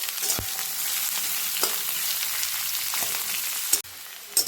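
Chopped onions sizzle steadily in hot oil in a pan, with a few soft clinks and stirring bumps over the continuous frying hiss.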